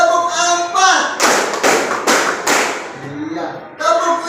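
Four sharp hand claps land in a quick even rhythm during a classroom clapping game. Voices can be heard just before and after the claps.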